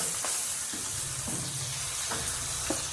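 Hot tempering is poured onto a Kerala-style shallot (onion) chutney and sizzles, a steady close crackle and hiss with a few soft stirring clinks and no voices.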